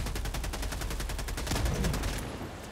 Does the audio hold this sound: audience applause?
no